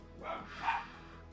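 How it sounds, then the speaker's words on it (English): A dog barks twice, faint and somewhat distant, over a low steady hum with no talking. "Why are you barking now?"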